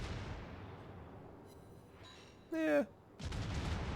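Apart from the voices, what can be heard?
battleship guns firing in World of Warships video game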